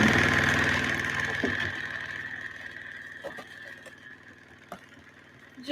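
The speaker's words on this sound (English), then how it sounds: "what you're hearing in the background is this thing. It's a vortex shaker." A vortex shaker whirs while mixing bottles of craft paint, a steady mechanical buzz that fades gradually, followed by quieter clicks and a few small knocks near the end.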